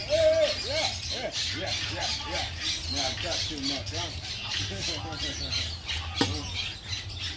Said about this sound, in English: you heard the bird chirping.